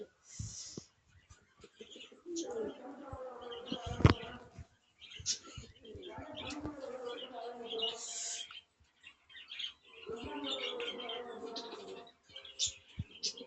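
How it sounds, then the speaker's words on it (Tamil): Fantail pigeons in a loft give low, warbling coos in several bursts, some close and fairly loud, mixed with brief wing flutters and faint chirps between the calls. "ஸோ இது வந்துட்டு புறா, மயில் புறா."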